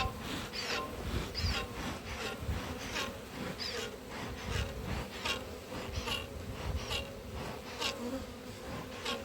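Honey bees buzz in a dense, continuous drone during an open hive inspection and split, close and steady with pulsing swells and no talk.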